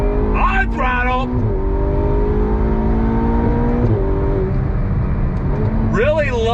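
A Ferrari GTC4 Lusso T on wet pavement drones loudly and steadily as the engine pulls under throttle, its pitch rising gradually, with someone talking briefly at the start and again at the end.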